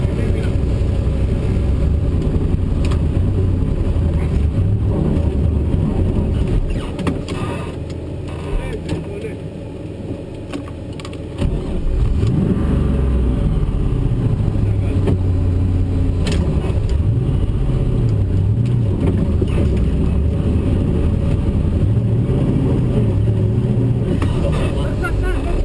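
Car engine revving under load while towing another car, clutch half engaged, a loud steady drone with rising and falling pitch and a brief dip midway, people talking over it.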